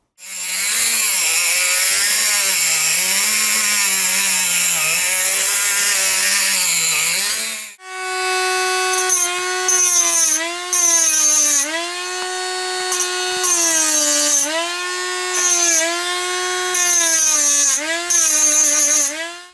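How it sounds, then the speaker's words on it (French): A small cut-off saw whines loudly as it grinds through a metal crankshaft, a harsh high-pitched scream that shifts pitch as the cut goes on, then bogs and surges repeatedly. "nous ici on va le couper avec cette mini tronçonneuse"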